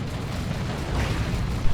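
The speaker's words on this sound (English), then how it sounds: "Auto cannon doing its thing." An autocannon fires in the Dawn of War 2: Retribution strategy game, a dense rumbling barrage of booms and bursts blending into heavy battle noise throughout, loud and continuous.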